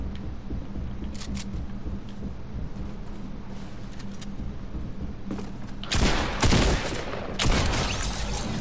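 Gunfire in the video game Fortnite, with a few faint early shots and then loud rapid bursts of automatic fire near the end against a steady game background.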